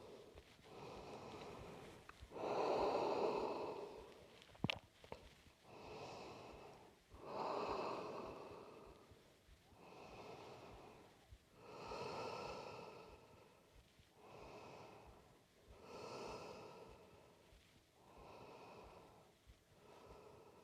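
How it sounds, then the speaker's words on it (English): Slow, deep breaths during a morning yoga flow: about eight long inhale-exhale cycles, each swelling and fading over a couple of seconds, close and fairly loud with airy, nasal texture and no talking. "Breathing deeply."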